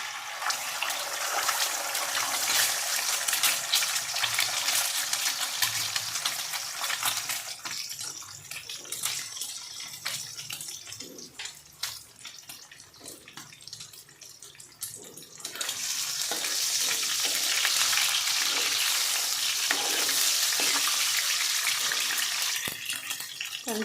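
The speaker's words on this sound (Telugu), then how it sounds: "ఎగ్స్ వేస్తున్నాను." Eggs cooking in a pan of hot oil give a steady loud hiss and sizzle that fades in the middle and then swells again, with no talking.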